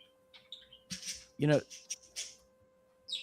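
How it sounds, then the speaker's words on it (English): Pet birds chirp indoors in short, high, irregular bursts, close and moderately loud, mixed with a person's voice and a faint steady electrical hum. "That's a bird, I think."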